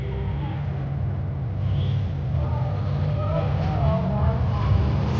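A 1997 Ford Explorer runs at a Tuff Trucks event in Prineville, Oregon, its engine a steady loud rumble over constant crowd and outdoor noise, with a commentator's voice faintly mixed in.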